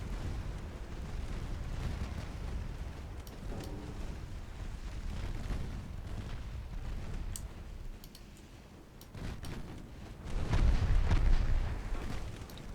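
High-explosive shells burst in a naval battle game, with low rumbling booms rolling through a steady background of sea and gunfire, one heavier blast swelling near the end.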